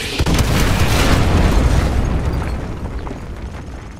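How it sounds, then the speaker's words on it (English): Loud artillery strike explosions in Call of Duty Modern Warfare 2 Remastered, a heavy booming blast rumbling on for several seconds before slowly fading, with no voices. "use your laser designator to call in artillery on those vehicles"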